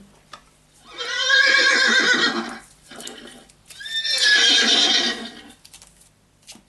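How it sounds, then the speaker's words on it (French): A horse whinnies twice, two drawn-out neighs separated by a short pause, close and clear with nothing else around them. "Cheval."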